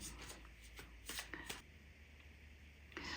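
A deck of spiritual cards being shuffled by hand, with a series of crisp riffling, flicking bursts of paper cards at an irregular rhythm, close and moderately quiet with no speech.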